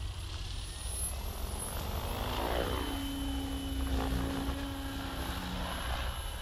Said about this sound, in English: This is the OMP Hobby M4 in racing yellow, and we're gonna do a mixed RPM flight.